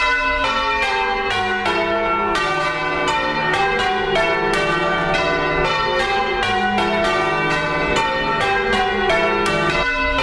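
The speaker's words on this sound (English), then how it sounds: "Are we allowed to edit church bells?" Church bells peal continuously in a steady, overlapping rhythm, bright and resonant, with no voices.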